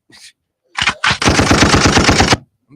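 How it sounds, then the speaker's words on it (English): A gunshot sound effect played on a podcast: a short burst opens, then a rapid run of loud, evenly spaced shots fires for over a second, close and dry, with no talk over it. "Can I get a gunshot for that?"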